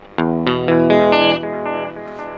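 An electric guitar played through an 8Note Chrono Tap delay pedal in analog mode, a few plucked notes each trailed by warm, slightly murky repeats that blur together and fade.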